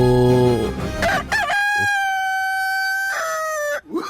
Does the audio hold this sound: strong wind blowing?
no